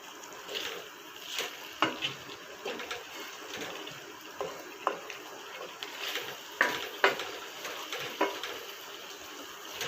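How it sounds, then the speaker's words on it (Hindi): Cauliflower pieces fry in a pot for Pakistani gobi gosht, a soft sizzle broken by repeated scraping stirs and light clinks of a spoon against the pot. "गोभी डालकर फिर आप इसको अच्छे से भून लें।"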